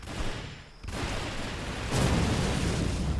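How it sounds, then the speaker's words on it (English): An explosion in the video game Champions Online: a broad, rumbling burst that swells near the start and again toward the middle, then leaves a loud, sustained roar that carries to the end. "Explosion."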